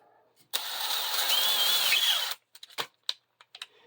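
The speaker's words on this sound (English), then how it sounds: "and drill a hole." A power drill whines loudly for about two seconds as it bites into the thin sheet metal of an old oil lamp, then cuts off, followed by a few short clicks and knocks.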